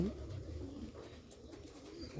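Low, soft cooing of hungry Bombay and Rajshahi Giribaz pigeons being fed wheat rumbles continuously through a quiet background, steady and close.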